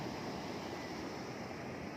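Strong wind and high sea waves rush against a sandy beach in a constant, dense, loud roar with no clear breaks.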